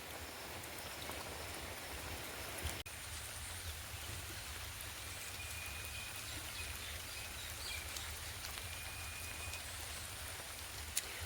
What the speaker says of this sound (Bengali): এখন ধীরে ধীরে যত বেলা হচ্ছে বৃষ্টির গতি ততই কিন্তু বাড়ছে।